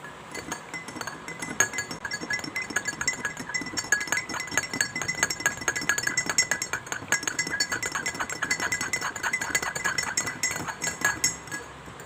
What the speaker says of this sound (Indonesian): Di sini mari kita aduk.